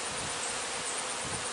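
A dense, steady buzzing of many honeybees around a mother colony hive fills the air, constant and close, with no other sounds.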